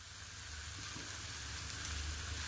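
Ground paste of cumin, coriander, green chilli, pepper and mustard sizzles in a pan with country chicken, a soft, even frying hiss close by that builds slightly, ending in a brief clatter.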